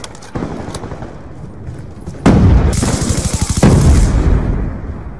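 Video game combat with rapid machine-gun fire rattling throughout, then two heavy grenade blasts that boom loudly and roll off into dense noise, with gunfire continuing beneath.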